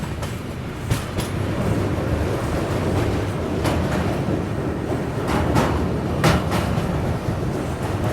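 The Patna-Howrah Express crosses the Kiul river bridge, heard from on board as a loud, continuous low rumble with intermittent metallic clanks and clatters.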